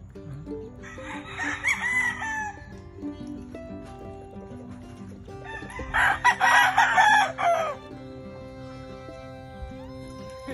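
A rooster crows twice on a farm, each loud, drawn-out cock-a-doodle-doo rising over a low background of other fowl and faint farmyard noise.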